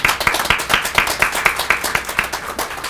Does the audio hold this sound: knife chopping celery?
no